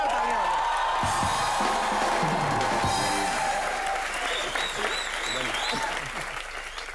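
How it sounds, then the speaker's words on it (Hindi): An audience breaks into dense, sustained applause with some cheering, loud at first and gradually tapering off, while a voice talks over the clapping. "एक बार सबसे रोमांटिक जोड़ी के लिए जोरदार तालियां"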